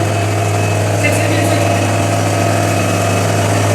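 A machine running in a potato cold storage machine room, a loud, steady, low mechanical hum with strong constant tones and vibration, continuous without change, with a voice speaking over it.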